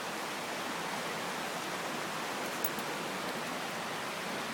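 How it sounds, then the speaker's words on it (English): A waterfall on a countryside walk gives a steady, dense roar of falling water, loud and unbroken throughout, with no voices over it. "look, see, that's the waterfall."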